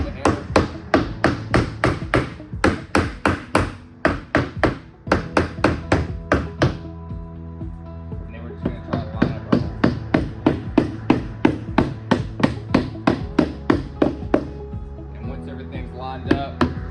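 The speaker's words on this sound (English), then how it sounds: "Might need to give it a little extra help with the hammer." A Down Home Adirondack chair back is hammered down into its seat, a rapid series of sharp wooden taps and thuds, close and loud, in bursts across about fifteen seconds.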